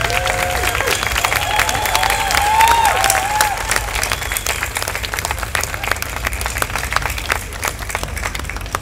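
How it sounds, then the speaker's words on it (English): Applause at an Australia Day citizenship ceremony, a steady dense clapping from a large indoor crowd lasting throughout, with a brief voice at the start. "Now give them a very big clap."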